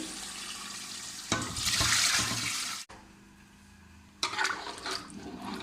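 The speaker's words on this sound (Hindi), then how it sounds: "अब ये स्टॉक सारा हम इसमें डाल देंगे।" Reserved paya stock with a layer of set ghee being poured into a cooking pot, a broad splashing pour that rises, cuts off abruptly, then returns in a second burst.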